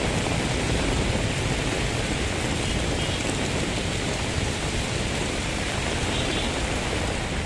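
Heavy rain pours steadily in a Manila street during a storm, with strong wind adding a constant broadband roar; dense, loud and unbroken throughout, with no voices.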